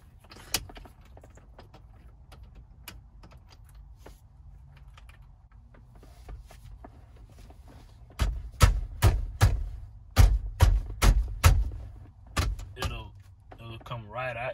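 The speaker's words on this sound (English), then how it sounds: "Now we're gonna open this bolt right here, so we can take the whole steering wheel out" Ratcheting on a steering wheel bolt of a 2011 Toyota Land Cruiser, a quick series of sharp metallic clicks and clacks close up, following a quieter stretch of faint handling noise, with a brief voice near the end.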